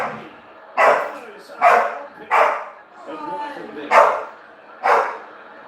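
Close, loud dog barks come one after another, six in all with a short gap midway where a softer whine-like sound fills in, against a quiet indoor background.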